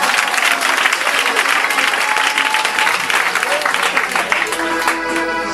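A church congregation applauds and acclaims the Lord during a sermon, with loud, dense, sustained clapping and crowd noise that fills the whole stretch.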